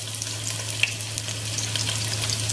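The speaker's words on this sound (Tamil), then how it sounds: "இது நல்லா பொரிக்கட்டும்." Crushed garlic and dried red chillies fry in butter in a pan, giving a steady close sizzle with small crackling pops over a low constant hum.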